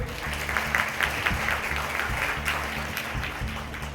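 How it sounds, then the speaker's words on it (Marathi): A school audience at Vita High School claps for its teachers in steady, continuous applause, with a low tonal hum running underneath. "इथल्या विटा हायस्कूलच्या सगळ्या शिक्षकगणांसाठी एकदा जोरदार टाळ्या झाल्या पाहिजेत"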